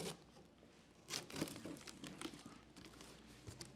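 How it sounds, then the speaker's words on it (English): A box cutter slices through a cardboard box holding a Smart LED GEN7 Qi outdoor LED panel, giving brief crinkling, tearing rasps in a few bursts at close range. "I'm going to open up my box cutter, and you can see it has a handle on it, but you're just going to cut around"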